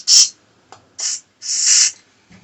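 Cleaner from a spray bottle misted onto stripped Suzuki GSX1100 motorcycle parts in three short, close hissing bursts, the last one longest, with quiet gaps between them.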